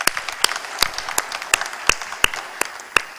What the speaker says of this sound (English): join me in a round of applause for his presentation